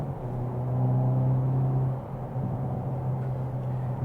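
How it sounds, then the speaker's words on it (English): A 2022 Hyundai Elantra N in N mode drops into third with rev matching, the engine note holding a steady drone, then dipping and climbing again as the revs rise, alongside a low cabin rumble. "Let's put in N modes, downshift"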